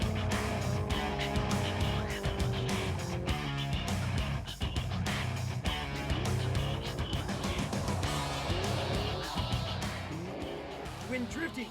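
Cars drifting at a monthly Drift Day in Fontana, with loud engines revving and tires squealing and skidding, under a narrator's talk.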